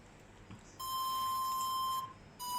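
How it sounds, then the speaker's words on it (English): A fluty synth tone made in the Serum software synthesizer plays as two sustained, bright electronic notes, the first held for over a second and the second starting near the end, alone and fairly loud. "It's the fluty sound that I made in Serum."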